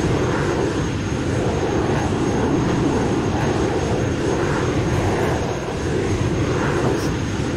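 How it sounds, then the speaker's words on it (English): An AlphaJet flies in the X-Plane flight simulator, its jet engine roaring as a steady, loud, even rush of noise throughout. "Jet scooting around."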